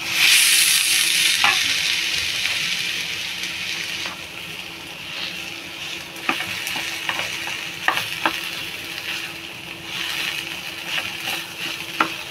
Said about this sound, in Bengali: আলুটা ভালো করে এটাতে ম্যাশ করে দেবো।